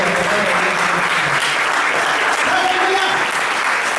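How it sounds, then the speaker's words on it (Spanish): Church congregation bursting into strong, sustained applause during a sermon, many hands clapping loudly and continuously with voices mixed in underneath. "Denle un aplauso bien fuerte a la palabra de Dios."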